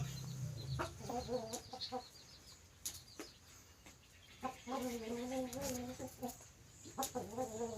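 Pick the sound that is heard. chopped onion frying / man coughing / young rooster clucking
young rooster clucking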